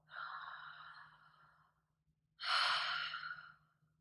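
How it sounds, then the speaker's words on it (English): Two slow open-mouth breaths during a yoga exercise, a long airy hah followed after a pause by a louder, brighter one, close and breathy like fogging a window. "on your exhale, through the mouth, like you're fogging a window, make a sound"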